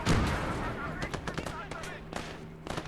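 Anti-tank PIAT weapon fire in the Call to Arms Gates of Hell: Ostfront war game, a heavy opening blast followed by scattered sharp gunshot cracks and battle noise.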